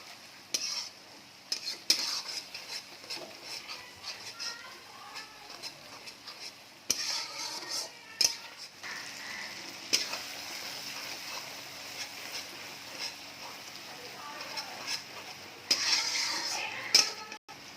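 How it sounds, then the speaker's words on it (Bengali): Spice masala for a fish curry being stirred and sautéed in a pan, a close sizzle broken by repeated scraping and clattering strokes of a spoon against metal, louder in bursts. "এটাকে আমি ভালো করে মশলাটাকে কষবো, নাহলে একটু মশলার গন্ধ বেরোবে।"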